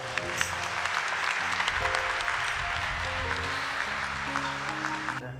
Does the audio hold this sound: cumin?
no